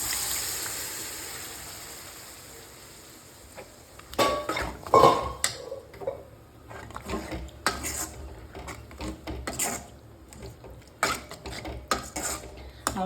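Mashed ridge gourd goes into a pan for a kadayal, with scraping, clanking utensil hits and stirring scrapes in an irregular run after a quiet opening, close and moderately loud, no talk.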